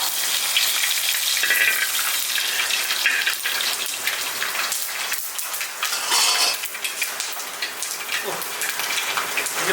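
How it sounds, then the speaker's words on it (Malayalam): Mustard seeds pop and sizzle in hot oil with a dense, continuous crackle and spatter, close and loud throughout. "കടു പൊട്ടിക്കൊണ്ടിരിക്കുകയാണ്."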